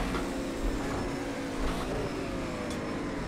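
A racing car's engine in Project Cars 2, driven at night with a Fanatec wheel, drones and revs steadily through a heel-toe downshift. The sound is close and continuous and carries no talk.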